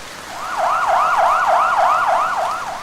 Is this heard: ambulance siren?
yes